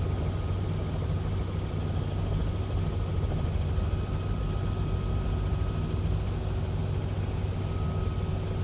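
Robinson R66 helicopter hovering in Microsoft Flight Simulator 2024, a continuous, loud, even rotor and turbine drone with a steady low throb and a thin high whine, no talking.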